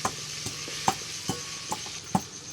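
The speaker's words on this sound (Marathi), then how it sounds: "तर आता इथे तेलामध्ये टाकून दिलेले अद्रक आणि अद्रक लसूणची पेस्ट आणि जिरे तेलामध्ये अशी व्यवस्थित भाजून घ्यायचे" Ginger, ginger-garlic paste and cumin fry in hot oil for a mutton dish, giving a steady soft sizzle with periodic sharp scrapes and taps from a stirring spoon, moderately quiet and close with no voices.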